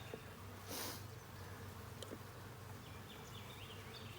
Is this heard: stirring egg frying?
no